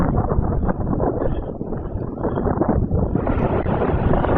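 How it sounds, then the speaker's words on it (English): Steady wind buffets the microphone on Pakefield Beach, Suffolk, in the lee of the cliffs, a continuous low roar and rumble with gusty swells and no voices. "we're now in the lee of the cliffs and the wind doesn't feel quite so bad"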